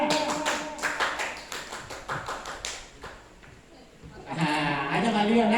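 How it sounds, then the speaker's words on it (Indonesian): Scout troop members clap a rhythmic group pattern together, sharp synchronized claps in a steady beat for about three seconds, followed by voices chanting and calling out loudly in unison near the end. "Tepuk pramuka."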